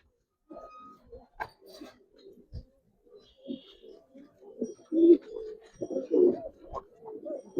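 Giribaz pigeons at a pigeon farm coo in repeated soft, throaty bursts, growing louder and more frequent toward the end, with scattered wing flutters and small knocks, close to the microphone.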